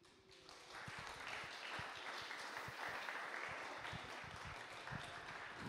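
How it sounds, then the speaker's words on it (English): A conference audience in a hall applauds, a dense and sustained burst of clapping that starts quickly and holds steady throughout, without any talking. "I want a round of applause for my front desk"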